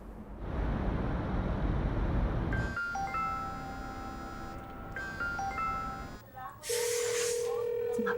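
A telephone rings unanswered with a melodic, repeating ringtone that starts after a few seconds of muffled room noise and sounds clear and fairly close.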